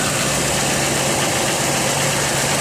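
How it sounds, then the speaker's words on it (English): A 2002 Chevy Venture minivan's V6 engine idles smoothly and steadily at close range, an even mid-pitched hum with no knocks or squeals. "It sounds just like it should, just like you want an engine to sound."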